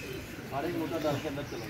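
Soft pigeon cooing rises and falls for a moment close by on a rooftop, with low background rumble and a faint voice in the mix.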